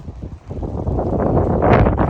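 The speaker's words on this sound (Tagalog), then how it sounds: "Medyo malakas din ang hangin ngayon." Strong wind buffets the microphone in rising, rough gusts, growing louder toward the end, with no voices.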